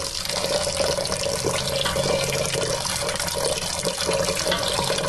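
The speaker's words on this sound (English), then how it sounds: "Now we're going to cover it with water again." Water pours steadily from a tap into a cooking pot to cover barley grains, a constant close rushing splash that runs for the whole stretch without pause.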